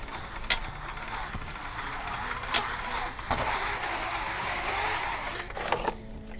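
A Kammok Crosswing awning's spring-tensioned fabric winds back onto its vehicle mount, giving a steady close mechanical whir with clicky ratcheting and a few sharp knocks and clacks along the way, no talking.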